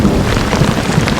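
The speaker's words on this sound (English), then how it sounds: "Thunder." A brief burst of thunder rumbles through heavy rain in the Canadian wilderness, a low loud roll beneath the constant hiss of drops on water.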